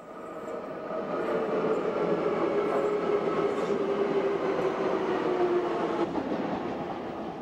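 A Docklands Light Railway train runs into Greenwich station with a steady, loud rolling rumble and a faint whining tone that swells and then eases slightly near the end, with no talk.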